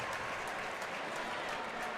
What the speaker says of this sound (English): That garnered a round of applause.